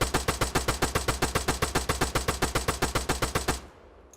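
Rapid automatic gunfire in the military video game Arma 3, a steady burst of about twenty-five evenly spaced loud shots over three and a half seconds, ending abruptly into a low fading tail, with no talking.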